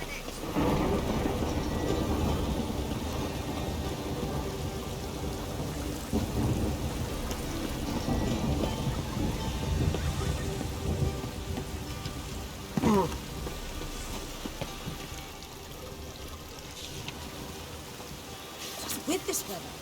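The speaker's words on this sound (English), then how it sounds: "The rain will ruin it." Rain falls steadily in The Witcher 3: Wild Hunt, a constant hiss with rumbling thunder rolling underneath and a sharper crack midway, sustained throughout at moderate loudness.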